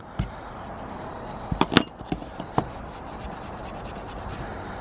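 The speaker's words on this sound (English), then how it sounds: "we're just cleaning it first to get the oil and mess off it" Rubbing and scrubbing on garden secateurs to clear off oil and grime, a steady low scraping bed with a few sharp taps and knocks clustered near the middle, close up and fairly quiet.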